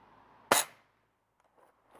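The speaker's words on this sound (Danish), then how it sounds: "Og så nu skal vi skyde efter traileren." A single sharp pistol shot fired at a trailer outdoors, loud and abrupt with a brief fading tail, followed by quiet.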